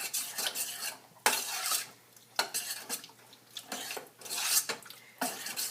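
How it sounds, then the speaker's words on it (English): A spoon stirs canned Rotel tomatoes into black bean quinoa chili in a pot, giving repeated scraping, clinking strokes in uneven bursts, close and fairly loud with no talk. "Stir in the Rotel."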